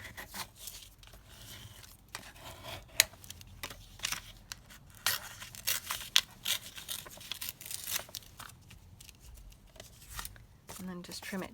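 Sheet music paper trimmed for a junk journal: a run of crisp snipping, tearing and rustling of the paper at close range, heard while someone talks quietly.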